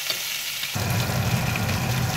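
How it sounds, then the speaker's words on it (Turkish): Beef cooking in a pan, second side being fried after the first, a steady loud sizzle that jumps up sharply about a third of the way through and then holds alone. "Şimdi etimizin diğer yüzünü kızartmaya başlıyoruz."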